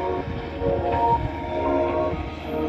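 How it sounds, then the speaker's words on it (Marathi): A JCB machine rolling along newly laid railway tracks near Beed railway station, a steady close rumbling drone with grinding, humming tones throughout. "हे पहा, JCB रुळावर चालायला लागली आहे मित्रांनो,"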